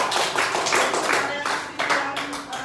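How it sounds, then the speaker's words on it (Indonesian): A fourth-grade class claps together for a student in a classroom, a loud, close burst of rhythmic group clapping in regular beats throughout. "Kita beri tepuk tangan untuk Eva."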